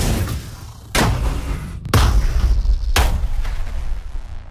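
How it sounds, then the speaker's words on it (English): Three heavy booming video game explosion blasts, each a sharp broadband hit trailing into a rumbling decay, spaced about a second apart, loud and close with no talking. "let's say that we had five other explosion sounds"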